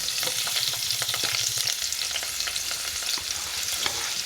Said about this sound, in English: So now we're gonna fry the onions.